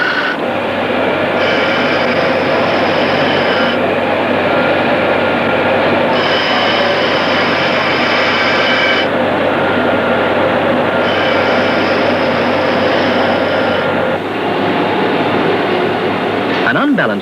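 An abrasive grinding wheel being dressed gives a loud, continuous grinding roar that brightens and dulls in passes every few seconds as the dresser moves across the wheel, with no voices.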